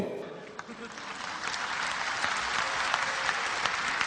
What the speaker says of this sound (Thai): คุณกำลังปรบมือ